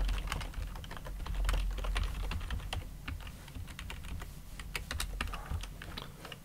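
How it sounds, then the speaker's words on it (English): Rapid, steady typing on a computer keyboard entering router network commands, light clicky keystrokes close up and quiet, with no talking. "And we'll just have to type in a couple of network commands."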